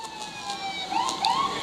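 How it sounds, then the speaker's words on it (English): Fire truck sirens wailing in a Christmas parade in Bardstown, with several overlapping rising and falling tones, close and loud, with no voices. "Always part of my favorite parts of the parade is the sirens and lights."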